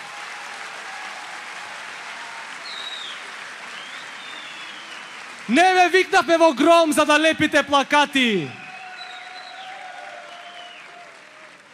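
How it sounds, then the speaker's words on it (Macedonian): A young audience applauds at a youth rally, a steady crowd clatter running under a man's loud, rhythmic shouted speech that dominates the middle stretch. "Да го чујам аплаузот"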